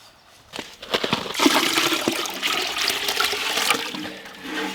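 Water splashes and runs steadily for several seconds from a vintage travel trailer, a close, continuous liquid gush with no talking.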